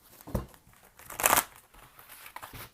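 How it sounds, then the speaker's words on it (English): Tarot cards shuffled by hand during a reading, giving a few soft papery riffles and slaps with one louder crinkly burst in the middle, close and fairly quiet with no talking. "let me go ahead and shuffle now the general cards."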